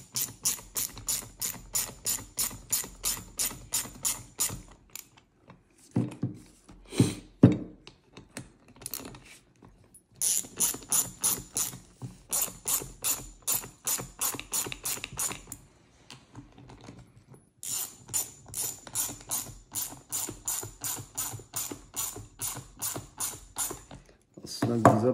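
A ratchet fitted with a 4mm socket tightens the arm rest bolts on an Indian Pursuit motorcycle tour pack. It makes runs of quick, even clicks, close and clear, broken by short pauses and handling clunks.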